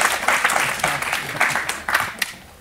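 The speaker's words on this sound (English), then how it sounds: "a round of applause." Scattered audience clapping in a festival talk session at Buddhafield Festival, a modest group giving uneven, separate claps that thin out and fade toward the end, with faint voices underneath.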